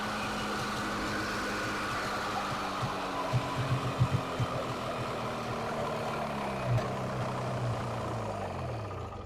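A 1972 Polaris Colt 340SS snowmobile engine running on its own, a steady nasal two-stroke drone with a few brief revs and a wavering pitch that sags near the end.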